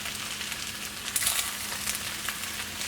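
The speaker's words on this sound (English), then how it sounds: "And then our last thing in the pan is going to be our bean sprouts. So mix those all in." Bean sprouts stir-fried into fried rice in a hot pan, a steady close sizzle with scraping and stirring bursts over continuous frying noise.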